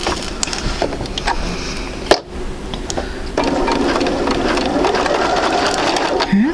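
Sewing machine stitching pieces of a quilt sampler block, a steady mechanical whir that starts after a brief pause and runs continuously, fairly close, with faint background noise.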